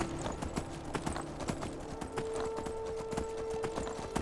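Steady clip-clop of horse hooves while riding on horseback in Skyrim, a rhythmic, moderately loud trot with a faint sustained tone beneath and no talking.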